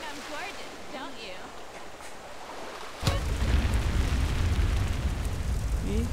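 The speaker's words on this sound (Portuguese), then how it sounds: "eles já aparecem aí com explosões" A loud burst erupts as Sasuke clones appear via a jutsu mod in GTA San Andreas, a sudden explosive roar that holds steady as a dense rumbling blast after quieter game sounds.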